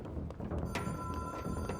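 A telephone rings with a thin continuous bell tone in the video game Control, sitting low under a dense, busy mix of game noise and muffled thuds.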